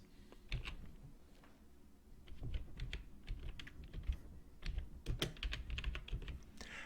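Keystrokes on a computer keyboard as an account name is entered in accounting software, a steady run of close, crisp key clicks in irregular bursts with short pauses.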